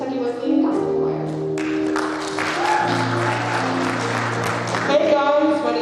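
In a chapel, an audience claps steadily for a gospel choir, the applause mixed with sustained singing voices and music throughout.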